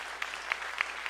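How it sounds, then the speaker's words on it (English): Audience members at a public forum on a proposed sales tax increase applaud briefly, a soft, even patter of clapping with a few sharper individual claps standing out. "Applaud."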